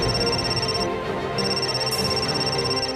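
A thin, high electronic tone sounds, pauses briefly, then resumes, like a phone ringing on the line over a dull background hum.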